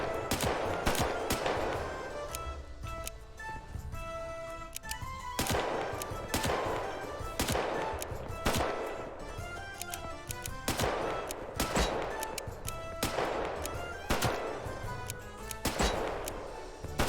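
A firing line of pirate muskets in Buccaneers lets off repeated volleys, loud overlapping shots landing in a steady rhythm about every second or two over a continuous battle din.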